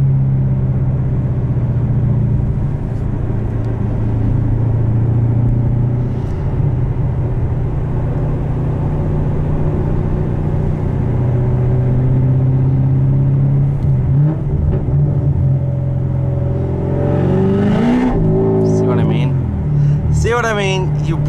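A manual 2015 Chevrolet Corvette C7 Stingray with aftermarket exhaust, headers and cam. It idles with a deep, loud, steady rumble, then near the end gives a few sharp revs that rise and fall. A voice talks over it.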